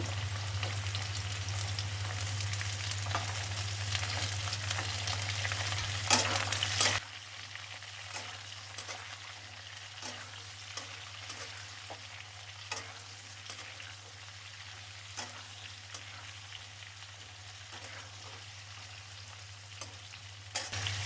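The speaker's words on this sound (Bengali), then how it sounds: "মূলোগুলো দিয়ে ভালো করে ভাজবো" Radish pieces fry with potatoes in a pan, a steady sizzle with a low hum that drops away partway, leaving quieter frying and occasional stirring clicks.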